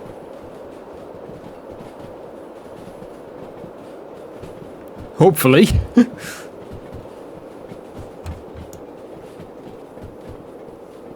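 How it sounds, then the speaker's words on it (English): Freight train in the Derail Valley railway game slowing to a halt, a low continuous rumble with a brief loud burst of screeching brake and air noise near the middle, then a quieter rolling hum. "Right, so I'm going to pull the train to a stop here."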